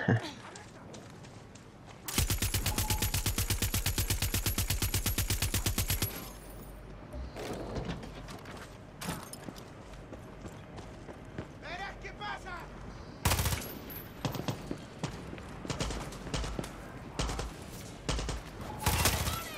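Sustained rapid automatic gunfire in Far Cry 6 rattles loudly for about four seconds, then scattered shots, impacts and combat noise continue, with a voice speaking over parts of the fight.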